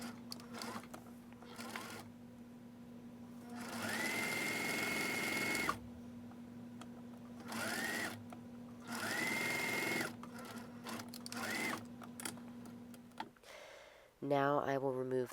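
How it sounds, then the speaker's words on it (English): A sewing machine stitches a casing along the bottom edge of a fabric sleep bonnet, running in several loud bursts of steady whirring separated by short pauses, ending with a brief higher mechanical sound. "And then I will sew along the bottom edge to create a casing for the elastic to go"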